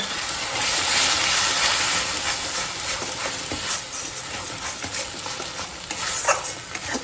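Masala with Kashmiri chilli powder sizzles and fries in oil after a paste of melon seeds, cashews and Amul milk is added, a steady close hiss with occasional stirring scrapes and no talk.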